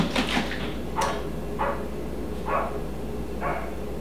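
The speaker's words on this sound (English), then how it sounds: "I don't know if you could hear the barking in the background" Several short barks from a blonde Labrador puppy in another room sound muffled and distant, spaced irregularly about a second apart over a low steady hum.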